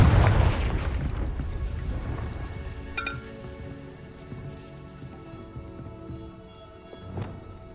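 A Confringo blasting spell explodes in Hogwarts Legacy: one heavy, booming blast hits hard at the start and then rolls away into a long rumbling decay with scattered debris crackles, followed by a softer thud near the end.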